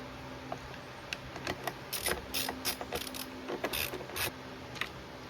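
Torx and flathead screws driven into the carburetor of a Stihl BG65 leaf blower, making close, irregular ratcheting clicks and small metallic taps in quick bursts, with no talking.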